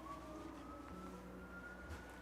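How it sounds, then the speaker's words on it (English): A distant siren wails steadily, its pitch rising slowly over a low background rumble, in a quiet Utah suburb. "Did y'all hear the sirens?"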